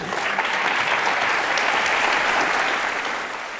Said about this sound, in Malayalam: അതായത് ഇപ്പോൾ ക്ലാപ്പ് ചെയ്തവർക്കിടയിൽ